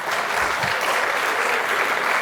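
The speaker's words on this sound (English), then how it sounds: "Another round of applause" Applause from a dinner audience at an award ceremony closing an investment forum on Greece, a steady, dense, loud clapping that fills the whole moment without letup.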